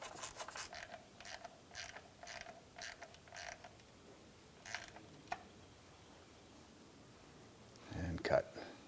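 Bolts on a plastic engine cover of a 2001-2005 Honda Civic being snugged down with a ratchet, close quick runs of clicking in short bursts, then a brief louder clunk near the end.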